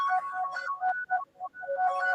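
A mobile phone plays a melodic electronic ringtone that rises and falls in short phrases, with brief pauses between, fairly loud and close with no talking.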